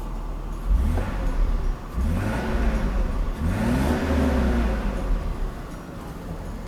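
A Mercedes R129 300SL, just repaired after a faulty fuel distributor, idles with the air conditioning on, its engine rising in a few quick revs and settling back to a smooth hum up close.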